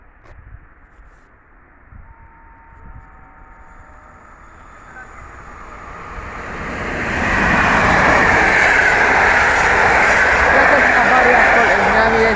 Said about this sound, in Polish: Właśnie gdzieś jedzie ten pociąg.